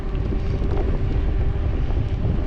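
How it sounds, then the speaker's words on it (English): Wind blowing outdoors as a cyclone approaches, a continuous loud rumbling roar buffeting the microphone for a couple of seconds, with no voices. "The wind is picking up a little bit,"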